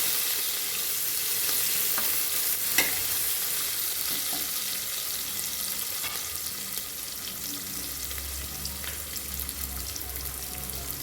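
Sliced onion hitting hot oil and being stirred in a pan for a quick snack recipe, a soft steady frying hiss with occasional scrape and clack of the spoon, a low hum entering toward the end.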